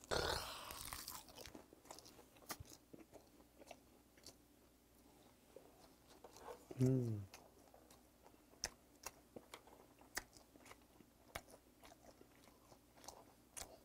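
Chunks of wild-caught yellowtail wrapped in dried Korean seaweed (gim) being eaten up close, with crisp crunching bites and steady chewing, a brief low voice sound midway, otherwise no talking.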